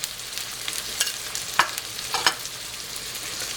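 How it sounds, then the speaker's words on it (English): Pork chops frying in a pan, a steady close hiss of sizzling fat with occasional sharper pops and crackles, no voices. "You hear them sizzling there?"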